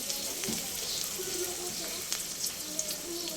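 Oil heating in a pan for frying bitter gourd gives a steady, fairly faint sizzling hiss throughout, with a few soft clicks and light pops scattered through it.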